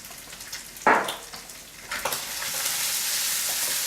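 Chorizo sizzles and fries in hot oil in a pan while being stirred, a steady close hiss that swells into a louder, continuous crackle after a sharp burst of stirring.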